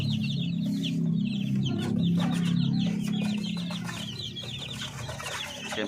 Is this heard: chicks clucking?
yes